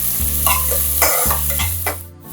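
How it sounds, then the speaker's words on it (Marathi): Finely chopped onions sizzle and fry in a hot pan, with steady crackling and a few scraping stirs of a spoon close by. "हे कांदे सुद्धा आपण चांगले परतून घ्यायचे।"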